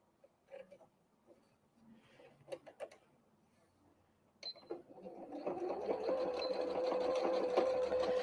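A sewing machine stitching a Christmas tree fabric napkin starts after some quiet handling clicks and rustles, then runs as a steady close whirring hum of rapid stitches for the last few seconds.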